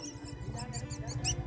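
A man imitates a rat with his voice, producing a quick series of thin, high squeaks in a steady rhythmic burst, close and fairly quiet.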